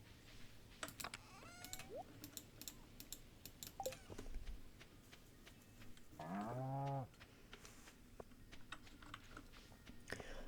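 A single drawn-out moo from a cow in the modded farming game Stardew Valley rises clearly mid-clip, surrounded by scattered quick keyboard-like clicks and soft game background sounds.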